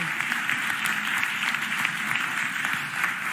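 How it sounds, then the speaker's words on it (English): Steady, dense audience applause in a hall during a city mayor's budget address, loud and continuous throughout. "Please give them another round of applause."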